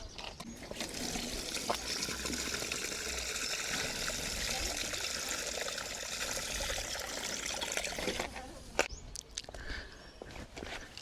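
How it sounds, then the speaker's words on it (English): Water spatters onto a newly planted winter squash bed mulched with wood chips and manure, a steady close hiss of spray and trickle, broken by a few knocks near the end. "give that a really good water"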